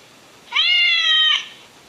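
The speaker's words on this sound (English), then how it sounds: "Is it the cat?" One drawn-out cat meow, clear and close, rising slightly and holding steady before cutting off, with quiet around it.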